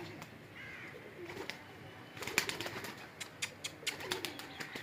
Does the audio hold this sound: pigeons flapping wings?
yes